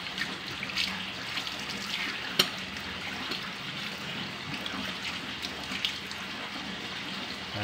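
Running tap water pours steadily into a sink while an eel is washed beneath it, a continuous close splashing stream with occasional small knocks and no talk.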